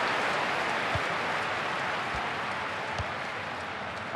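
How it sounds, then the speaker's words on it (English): A stadium crowd in the FIFA 15 football video game applauds steadily and loudly for the full stretch, with a few dull thumps underneath. "I think even the opposition are applauding that one"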